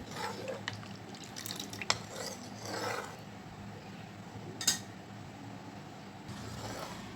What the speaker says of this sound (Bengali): এই জন্য এটাকে আমি এইভাবে নেড়ে ঠান্ডা করে নিচ্ছি।